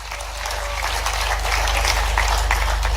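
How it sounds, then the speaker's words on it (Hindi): A large conference audience at a regional tourism conclave in Gwalior claps in a steady, dense wash of applause that holds at an even level throughout. "यहाँ जितने बैठे हैं, एक बार जोरदार ताली बजा करके"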